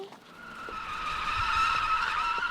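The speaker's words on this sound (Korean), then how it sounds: "그 자동차 주차장에서 올라오는 소리야." Car tires squealing in a parking garage: a sustained high-pitched screech that builds and holds for a couple of seconds, echoing and moderately loud, with no talking.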